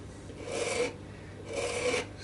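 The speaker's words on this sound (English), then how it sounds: "take a little bit of a edge to that, or a sand block to that, and then just round it around as we go" A sanding block rasps along the edge of a Telecaster-style partscaster guitar body, rounding it in two steady back-and-forth strokes, close and moderately loud with a short pause between them.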